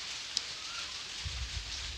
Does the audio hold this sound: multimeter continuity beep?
no